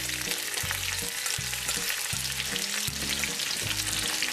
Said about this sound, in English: We got some sizzle.